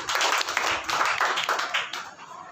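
Hands clap in a quick run of sharp, fairly loud claps at a steady rhythm, close by in a church service room.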